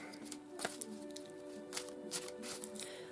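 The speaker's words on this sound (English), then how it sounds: "one last shuffle." Tarot cards are shuffled by hand, giving soft, quiet riffles and papery slaps at irregular intervals over a faint steady hum.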